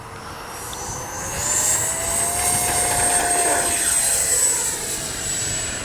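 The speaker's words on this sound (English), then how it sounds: "let's give it the maiden flight. Futura 64 from FMS" An FMS Futura 64mm RC electric ducted-fan jet climbs out on its maiden flight with a loud, continuous whining rush. The high turbine-like whine sweeps in pitch and swells as the jet passes near, then holds steady.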